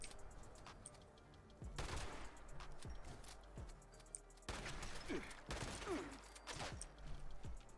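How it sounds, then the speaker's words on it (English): Laser rifle shots in Fallout 76 come in separate sharp bursts with gaps of quieter background between them, fairly soft overall. "go ahead and shoot me with your laser rifle"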